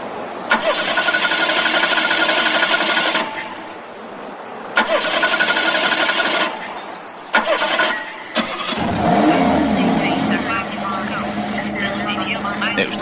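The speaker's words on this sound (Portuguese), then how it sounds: "Por que não liga o motor para eu ouvir?" A car engine cranks in repeated starter bursts, catches and then idles roughly, with people speaking over parts of the sequence.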